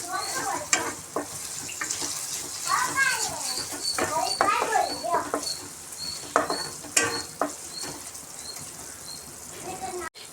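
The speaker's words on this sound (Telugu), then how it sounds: "అల్లం వెల్లుల్లి పేస్ట్ కూడా కొంచెం పచ్చివాసన స్మెల్ అనేది పోయే వరకు వేయించుకుంటే చాలండి" Ginger garlic paste sizzles in hot oil in a pan for a stuffed eggplant curry, a soft crackling fry with scraping stir strokes, while someone talks over the cooking.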